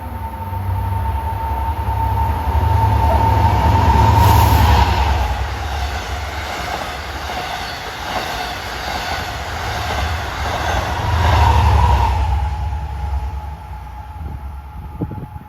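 An LIRR commuter train passes Westbury station on triple track during the evening rush, a steady, loud rumble of wheels and cars that swells twice as it goes by, with no voices.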